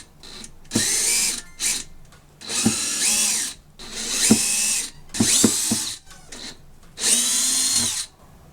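A power screwdriver backs out Phillips head screws from a Kenmore washing machine panel during drum bearing repair. Several separate whirring bursts come close and loud, with short clicks and pauses between them.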